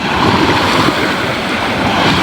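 Ocean surf washes in a steady, broad roar, loud and close, with wind blowing across the microphone.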